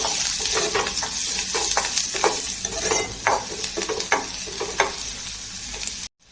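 Onion sautéing with black pepper, cloves, cinnamon and whole coriander seeds for Malvani chicken curry, a steady close sizzle broken by repeated stirring scrapes of a spoon in the pan, ending abruptly.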